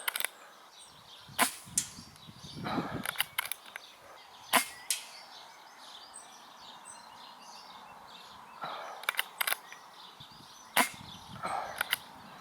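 A Brocock Contour Super 6 air rifle fires a series of sharp, close cracks spaced a few seconds apart, some in quick pairs, over a quiet outdoor background with faint birdsong.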